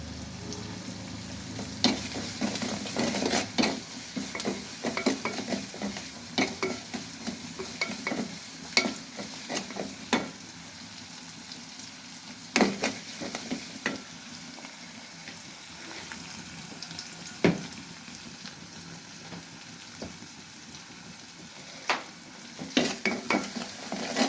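Chopped onions and green chillies sizzle steadily in a hot pan for a fish dish, with frequent sharp clinks and scrapes of stirring over the continuous hiss.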